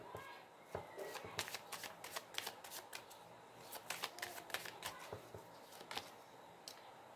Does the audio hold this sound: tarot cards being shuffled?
yes